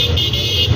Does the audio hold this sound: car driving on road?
yes